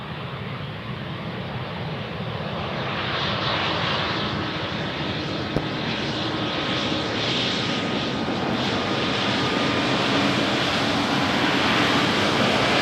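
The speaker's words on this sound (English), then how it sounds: "That's an A318, so very small plane." A small Tarom Airbus A318 lands on runway 18R at Amsterdam Schiphol, a sustained broadband jet roar that builds and stays loud and steady throughout, with no voices.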